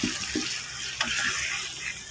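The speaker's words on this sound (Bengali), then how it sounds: "আমি এখন জলটা ঢেলে দেবো ঝোলের জন্য।" Water is poured into a pan of fried spice paste for a thin rui fish curry, making a brief, close sizzling splash that lasts about two seconds.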